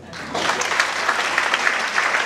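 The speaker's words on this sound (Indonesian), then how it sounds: "Kita berikan tepuk tangan." A church congregation breaks into sustained applause, dense and steady clapping from many hands filling the room for a couple of seconds after a brief quiet start.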